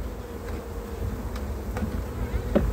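Honeybees drone steadily at an open hive frame during a nectar flow, a close, continuous buzzing hum with a few brief louder passes of individual bees.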